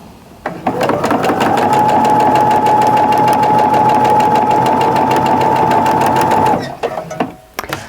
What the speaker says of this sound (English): we're going to sew down the other side